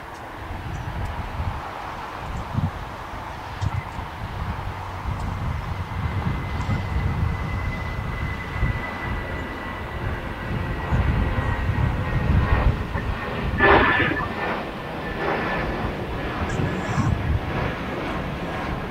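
Air Tahiti Nui airliner taxiing at LAX toward the west gates of the Tom Bradley terminal, a steady broad jet whine and rumble amid airport ambience, with a voice talking over it.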